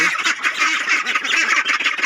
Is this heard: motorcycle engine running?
no